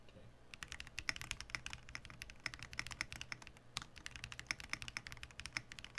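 Steady, brisk typing on a computer keyboard fitted with custom keycaps, each keystroke a crisp clack in quick irregular bursts, close and continuous with no voices over it.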